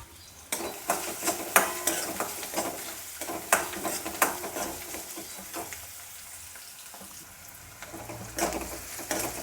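Chopped onions frying in a pan for zunka, a soft continuous sizzle broken by sharp scrapes and clinks of a spoon stirring against the metal, close and moderately quiet.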